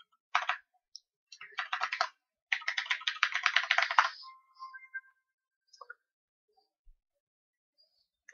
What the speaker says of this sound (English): go ahead and type in your username and your password